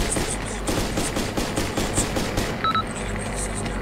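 Gunfire in the video game Arma 2: Operation Arrowhead, with rapid overlapping shots crackling steadily through the whole stretch over a dense, noisy background.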